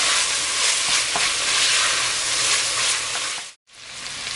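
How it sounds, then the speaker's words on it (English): Turkey sausage frying in a pan while being stirred and broken up, a loud, continuous close sizzle with occasional scrapes and a brief dip near the end. "we've got our turkey sausage in here, cooking up. We're just stirring it occasionally and breaking it up"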